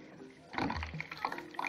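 Warm water for rinsing off a face mask splashes and trickles close by in a brief burst of liquid sounds, quiet at first then louder, with no talking.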